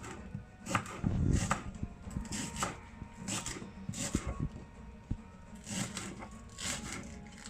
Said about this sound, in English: just chop it all into small pieces